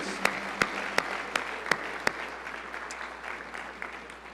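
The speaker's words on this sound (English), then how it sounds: "one last round of applause for all of our new employees" A hall audience gives a final round of applause for new employees at a fall opening session, the clapping moderately loud and steady, with a few sharper claps standing out near the start before it settles into an even patter.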